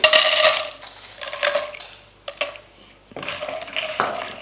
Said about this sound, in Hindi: अब हमने यहाँ पे तकरीबन 100 ग्राम गोंद ली है, आधी हम डालेंगे